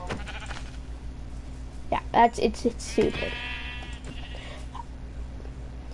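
Sheep bleats in a cartoon-style game scene, a couple of short wavering calls around mid-clip mixed with a voice speaking briefly over steady background hum.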